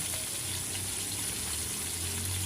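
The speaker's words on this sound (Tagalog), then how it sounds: "Kumukulo na po yung ating sabaw." Fish broth for pesang kulapo bubbling at a rolling boil in a pot, a steady watery churn close by with a faint hiss, no talking.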